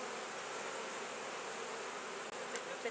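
A dense, steady buzzing of honeybees inside a hive, continuous and fairly soft, with a brief faint knock near the end.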